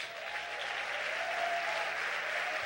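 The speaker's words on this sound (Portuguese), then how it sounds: "levante um aplauso à palavra de Deus" Church congregation at a Sunday evening family service applauds steadily, a soft, distant wash of clapping held evenly throughout.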